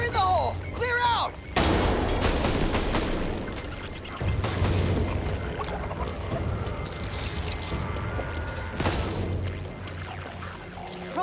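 In the video game Back 4 Blood, an explosive blast blows a lock open, with loud booming bursts and rumbling debris, followed by later heavy impacts among game noise and voices.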